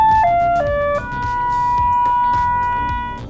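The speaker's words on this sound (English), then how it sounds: "quadruple chime" A four-note electronic chime from a phone paging system plays in descending steps, then holds a long sustained final tone, clear and close with no talking.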